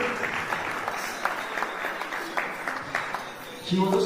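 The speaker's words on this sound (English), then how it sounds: "Let's clap for" Audience at a graduation ceremony clapping for a graduate, a steady patter of applause in a large hall with a voice talking over it near the end.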